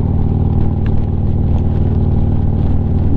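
A motorcycle engine drones at a steady, mid-pitched hum while riding out toward Sebring, loud and close, with no noticeable rise or fall in revs.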